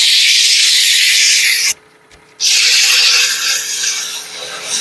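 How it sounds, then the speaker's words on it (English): Steady, close scratchy rubbing of 120-grit sandpaper on a wooden mouthpiece, a brief pause, then the light sanding strokes resume and continue evenly. "Do just a quick little light sanding on it."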